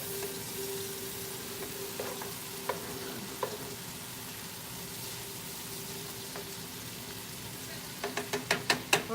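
Two tablespoons of butter melting in a pan give a steady, moderate sizzle and crackle throughout, with scattered pops and a quick run of sharper clicks and taps near the end.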